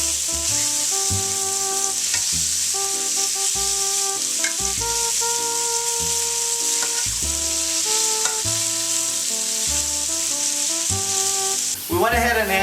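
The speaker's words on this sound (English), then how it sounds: "now with the pan, remember, at a medium heat, we're going to go ahead and add the livers to it" Thin pieces of liver fry in a pan over medium heat, a steady sizzle running throughout beneath louder layered background music, ending with a short scraping burst.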